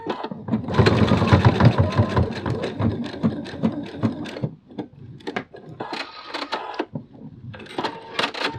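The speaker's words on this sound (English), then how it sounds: "then you're going to sew from the I to the H and J point" Sewing machine stitching a fabric bat toy, rapid mechanical chattering in bursts with short pauses between runs, close and moderately loud.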